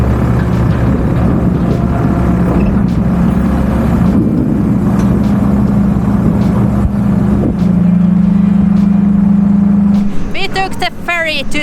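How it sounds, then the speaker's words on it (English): A truck camper drives along a road with a steady, loud engine drone and road rumble throughout, and an engine tone rises midway; voices speak over it near the end. "this is the first time Sarah is driving with the camper on"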